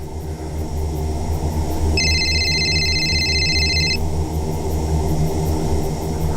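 A phone rings in a home, a single electronic ring tone lasting about two seconds, heard over a constant low droning background hum.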